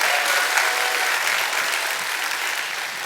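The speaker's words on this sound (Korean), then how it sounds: "다시 한번 격려의 박수 한번 부탁드립니다." A church congregation applauds after a performance by the education department pastors during a Sunday sermon service. The clapping is dense, sustained and even for several seconds, filling the hall without speech.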